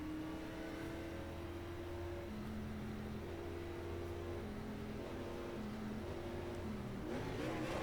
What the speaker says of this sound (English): Keep note on how I'm revving my engine on this pace lap.